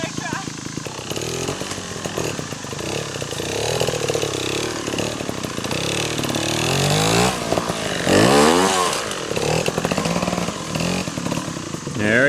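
Trials motorcycle engine revving in bursts as the bike drops down off a rock at a trials training ground, close and loud, with people talking over it.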